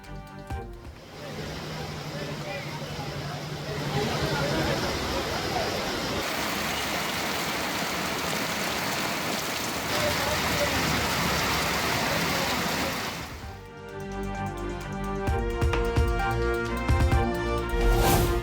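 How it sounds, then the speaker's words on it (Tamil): Heavy rain over roads in Tambaram, Pallavaram and Chromepet, where rainwater floods the streets, makes a loud, steady wash of noise that ends abruptly and gives way to music, with a news voice over it. "கொட்டி தீர்த்த கனமழையால் சாலையில் பெருக்கெடுத்த மழை நீர்."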